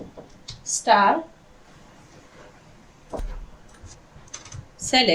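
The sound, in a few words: typing an SQL query on a computer keyboard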